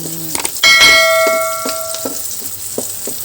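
Meat being stirred into a pot while cooking Japanese-style ramen at home: a metal utensil clangs and rings against the pot, then light scraping taps recur over a soft background sizzle.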